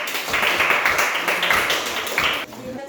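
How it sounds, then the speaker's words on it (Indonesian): A classroom group of students gets applause, a short burst of clapping from several people with uneven, overlapping claps that cut off abruptly near the end. "Tepuk tangan untuk kelompok"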